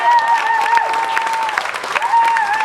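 Concert crowd applauding and cheering for a tour manager at a live show in San Diego, steady dense clapping throughout with a bright whistle-like tone over it.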